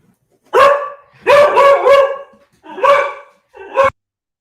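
A dog barks loudly nearby in four bursts, with a double and a triple bark in the middle, separated by short silences and with no talk over them.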